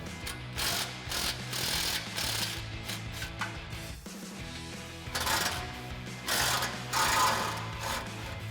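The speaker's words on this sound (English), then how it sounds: "it's a 13 millimeter swivel socket and extension on our impact" An impact wrench fitted with a 13 mm swivel socket and extension unbolts exhaust nuts on a GMC Sierra 1500 during a Borla exhaust install, giving steady rattling, hammering bursts with a short pause midway, loud and close, with no talk.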